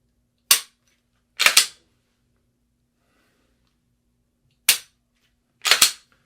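Sharp pistol dry-fire trigger clicks, four crisp isolated snaps in two pairs with long silent gaps between, close and clear with no talking.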